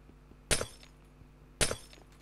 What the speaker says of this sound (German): Dann muss da Glas weggehauen werden.